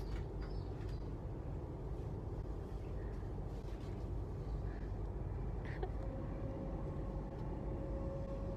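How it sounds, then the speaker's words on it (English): Steady low rumble of a moving train carriage, continuous and even throughout, with faint rattles and a brief high whine near the end. "We are on our next train."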